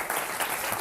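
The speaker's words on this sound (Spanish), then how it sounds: "Venga, un aplauso a Manuel García" Audience applause for speaker Manuel García at an economics lecture, a dense steady wash of clapping filling the whole short moment without talk.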